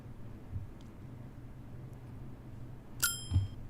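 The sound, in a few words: game bell sound effect from a video game's sound resources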